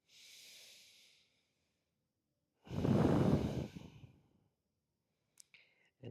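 A deep yoga inhale drawn through the nose, preceded by a softer breath and followed by a long exhale, close and quiet in a still room, with a few faint clicks after.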